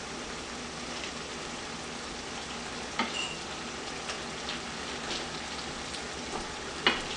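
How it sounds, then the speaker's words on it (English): Meat for a potato lamb curry sautés in a pan with a quiet, even sizzle, and a few sharper knocks and scrapes of stirring break through near the middle and the end. "we will saute this meat for about 2 or 3 minutes"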